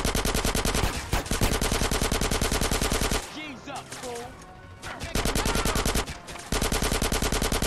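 Sustained automatic gunfire in GTA San Andreas Definitive Edition, with loud, rapid bursts that break off briefly and then resume, and a short pause filled with softer game sounds and a voice.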